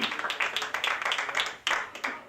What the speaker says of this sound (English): I want another round of applause for Shannon.